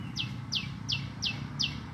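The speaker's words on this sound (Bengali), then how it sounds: "পাখির ডাক কিচির মিচির শব্দ" Bright, high chirps repeat at a steady pace, about three per second, over a low background hum; a bird calling alone, no talking.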